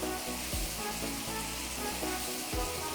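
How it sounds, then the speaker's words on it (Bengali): Crab sizzling in a pan with black and white pepper: a steady, bright, hissing fry that fills the whole stretch, with a few soft clunks of the pan underneath and no talking. "সেটাকে আমি একটু ভাজবো কিছুক্ষণে, কয়েক সেকেন্ড, এবং এর মধ্যে আমি এখন দিয়ে দেবো আমার ক্র্যাব"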